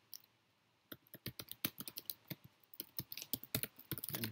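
Computer keyboard keys clatter in quick irregular bursts while code is typed, close and crisp, starting sparse and then growing into a busier run of clicks with short pauses between them.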